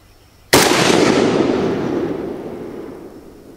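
A single loud AK47 rifle shot fired outdoors while zeroing the rifle, a sharp crack followed by a long rolling echo that fades over about three seconds.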